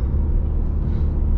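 A car driving on a highway near Lake Superior in Minnesota, heard from inside as a steady low road rumble and engine drone with no talk.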